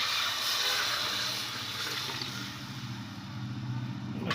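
Water is poured steadily into 3 glasses of rice for ghee pulao, a continuous splashing rush that lasts the whole stretch.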